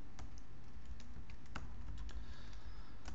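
Someone types a MySQL command on a computer keyboard, a close, steady patter of keystrokes over a low background hum, with no voice.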